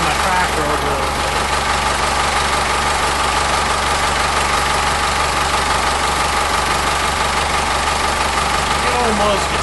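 A New Holland tractor engine idles steadily and loudly nearby for the whole stretch, a constant low rumble with a faint knock, while a person talks briefly over it.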